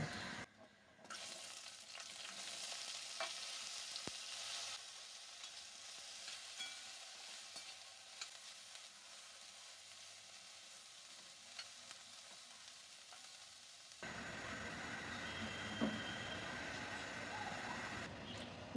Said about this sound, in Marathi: थोडं फ्लावर परतून घेते, म्हणजे का उग्र वास असतो ना, तो निघून जातो तेलात.